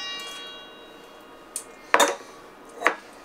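Salad greens being tossed with dressing inside a pot on an apartment balcony: a few sharp clinks and scrapes of utensils against the pot, spaced apart over quiet background, with no talking.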